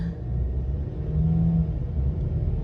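A 2022 Ford Maverick with transmission problems slows down a road, its engine a low steady rumble with a slight rise in pitch as the gearbox downshifts, heard from inside the cab without talk.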